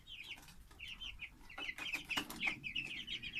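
Farm chickens cluck in repeated short bursts at moderate distance, fairly quiet, with some scuffling and a louder cluster of clucks midway.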